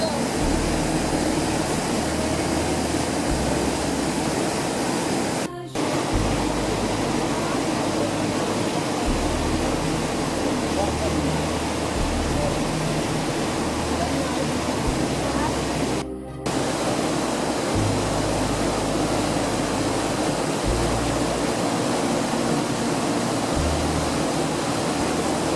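Waterfall and creek rushing through a narrow, steep canyon, a steady loud roar of falling water that continues without a break, with a low rumble under a constant broadband hiss and no speech.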